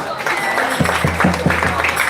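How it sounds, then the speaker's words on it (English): A crowd gives a big round of applause at a festival auction, a loud wash of clapping and cheering with voices rising through it in short, repeated calls. "Ladies and gentlemen, please give a big round of applause to Radha."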